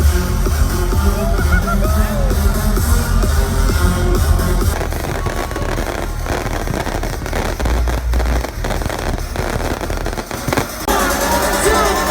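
Fireworks burst repeatedly at Tomorrowland festival, a dense barrage of sharp bangs and crackles over a loud crowd, with people talking and shouting close by.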